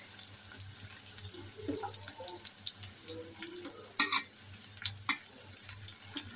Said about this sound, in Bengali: দেখেন আমার তেল গরম হয়ে গেছে, আমি পেঁয়াজগুলো ছেড়ে দেবো।